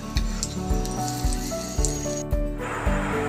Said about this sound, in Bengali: এক পিঠ লাল করে ভাজা হয়ে যাবার পর অপর পিঠটিও ভাজার জন্য উল্টে দিচ্ছি।